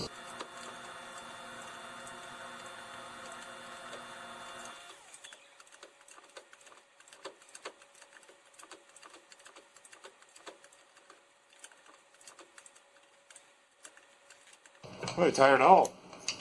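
Sparse, faint metallic clicks and ticks from a wrench working rusted, Loctite-coated pinion nut bolts on a 2011 Ram 2500 HD 6.7 Cummins, following a steady hum; a tired voice speaks briefly at the end.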